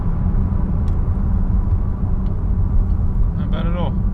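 Honda Accord 2.0T with a Stage 3 tune driving along, its engine a steady loud rumble throughout with road noise, and a brief chirp near the end.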